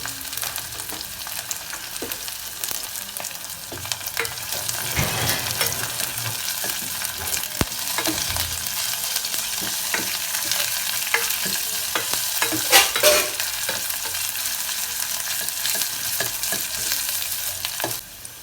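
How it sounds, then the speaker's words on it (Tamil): Garlic sautéing with onion in a pan for spicy tomato soup, a continuous close sizzle with frequent scraping stirs of a spoon, fairly even throughout. "பூண்டு போட்டு நல்லா வதக்கிட்டு"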